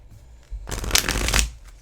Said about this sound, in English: Ooh, those shuffle really nice.